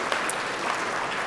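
A gala audience applauds steadily and fairly loudly at a charity fundraising dinner, many hands clapping in a dense, even wash with no pauses.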